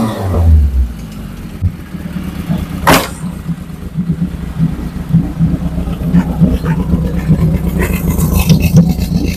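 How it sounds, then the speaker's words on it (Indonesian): A Suzuki Futura pickup engine runs during a test, giving a steady low, rumbling idle with a few light revs and occasional mechanical clatter throughout. "pertama-tama kita tes mesinnya dulu."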